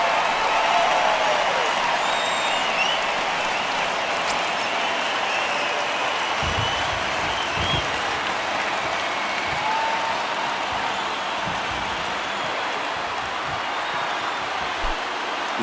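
A baseball stadium crowd of over 39,000 in MLB The Show 19, Giants versus Phillies, applauds and roars in a dense, continuous wash of clapping and cheering that holds steady throughout, with a few low thumps beneath.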